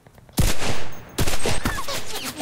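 Loud bursts of gunfire in the battle royale video game Cuisine Royale, two heavy volleys close by with a brief gap between them, followed by scattered sharper shots.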